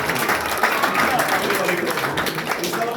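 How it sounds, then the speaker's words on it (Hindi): Audience clapping loudly and continuously for a performer at a theatre gathering, a close, full burst of many hands, with voices and chatter running underneath. "ये इनके लिए जरा जोरदार ताली बजाओ"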